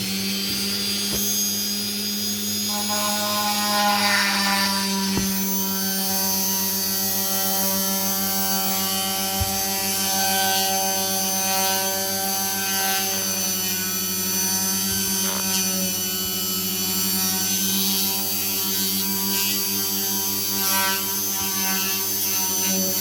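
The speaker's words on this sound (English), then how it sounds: "Now we use it to drill holes into the shells." A Ryobi rotary tool drills a hole into a wet seashell, giving a steady, loud, high-pitched whine with a humming motor drone that runs unbroken for the whole stretch, with no talking.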